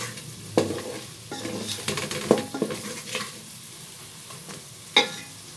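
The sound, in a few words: stirring and cooking turmeric mixture in pan for kadhi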